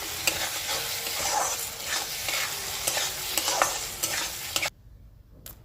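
Green peas being stir-fried in ginger-garlic paste in a hot pan, a steady sizzle broken by repeated scraping stirs, then dropping away near the end.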